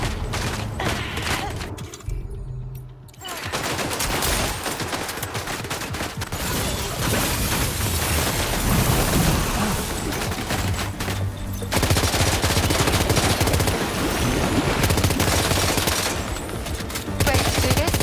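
Heavy gunfire in Death Stranding 2: On the Beach, dense rapid machine-gun bursts and fusillades running almost continuously and loud, broken by one brief lull early on.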